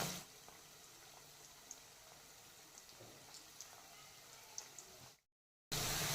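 Khari pastry deep-frying as it floats in hot oil, a steady soft bubbling sizzle with scattered small pops throughout, then a brief silence before a louder burst of frying at the end.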